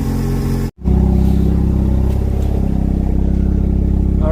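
A Mazda FD RX-7 rotary engine idles loud and close while warming up, with a steady pulsing drone and a brief dropout near the start.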